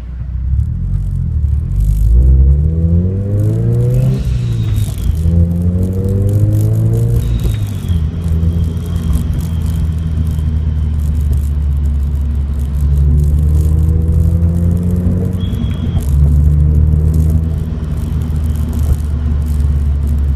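A car fitted with a Vortech MaxFlow race blow-off valve drives along, its engine rumbling loudly and close, rising and falling through several throttle sweeps, with faint whooshing releases between them and no talk.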